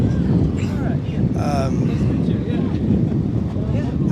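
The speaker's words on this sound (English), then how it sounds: "I believe it's the fastest single-engine turboprop" TBM 910 single-engine turboprop with a PT6 engine at an aircraft expo, a loud steady turbine roar with wind buffeting and someone talking over it.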